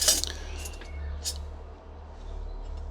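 Cutlery and camping cookware (a small pot, pan and lid set) clink lightly while being packed for a motorcycle trip, with a brief bright clatter at the start and another short clink a moment later against a quiet background hum.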